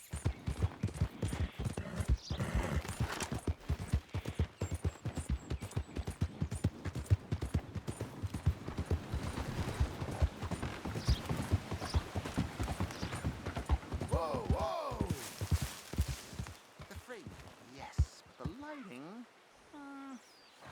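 Horse hooves gallop in Red Dead Redemption 2: a fast, steady clip-clop that runs for most of the stretch, then slows to a few scattered hoofbeats at the end, with brief vocal sounds near the close.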